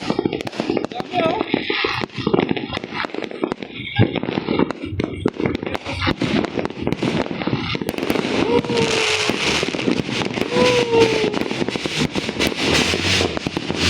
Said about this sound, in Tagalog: Look ha, fireworks